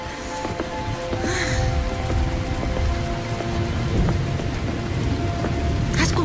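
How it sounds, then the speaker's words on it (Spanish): Steady rain patters and splashes on a surface throughout, with a low rumbling underneath and a few brief higher sounds over the downpour. "no esperaba la lluvia"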